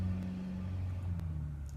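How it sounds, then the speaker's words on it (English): A car passes on the street outside, a low steady rumble with engine whir heard faintly in the background for under two seconds. "you probably heard the background noise, car on the street"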